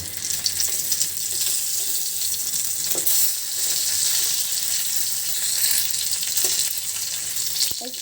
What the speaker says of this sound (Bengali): এর জন্য চিকেন নাগেটস ভাজি করতেছি